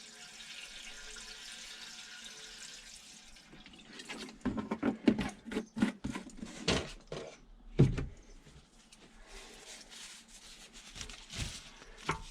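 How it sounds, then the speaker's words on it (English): Parts cleaner poured and swilled inside a Suzuki GS850 motorcycle petrol tank: a soft hiss gives way to irregular glugging, sloshing and knocking of liquid against metal, close and moderately loud. "we'll also stick a bit of parts cleaner in just to help swill things around a little bit"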